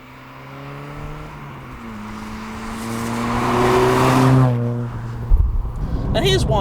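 A Mk1 Volkswagen Golf GTI on much wider tyres drones from inside, its engine note climbing steadily, then easing off, followed by a few knocks and bumps near the end.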